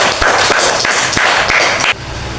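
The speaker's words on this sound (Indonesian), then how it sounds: "Tepuk tangan untuk kelompok 1." A classroom of students claps for a group, a dense, loud burst of applause that stops abruptly after about two seconds.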